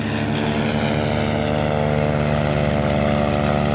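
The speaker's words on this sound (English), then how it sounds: "Look at that aircraft. That second aircraft on the runway." A World War I biplane engine drones steadily on a runway at an airshow in New York, a continuous loud, even propeller roar with a rich harmonic hum and no voices.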